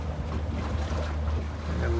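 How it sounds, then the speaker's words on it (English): Water washing over the bow of a catamaran houseboat in big river waves, a steady broadband rush mixed with wind buffeting and a low drone throughout, with no distinct splashes standing out. "a little bit of water coming over the front"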